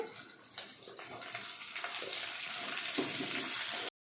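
A steady stream of water pours into a cooking pot, a continuous splashing rush that runs for several seconds before cutting off abruptly.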